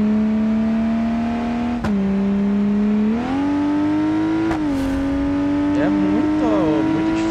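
A car's engine in BeamNG.drive holds a steady drone, then climbs in pitch with brief gear-like dips and rising revs, loud and close, with a person talking briefly over it.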